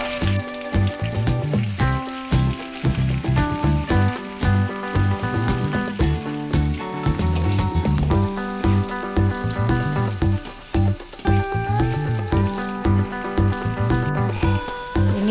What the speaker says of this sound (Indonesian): lanjut kita goreng bawang merah dan bawang putih